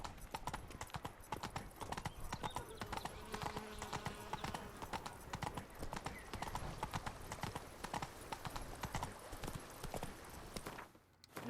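Roach, the horse in The Witcher 3 video game, gallops along a road with a steady, rapid clip-clop of hooves that runs throughout at moderate loudness, briefly easing near the end.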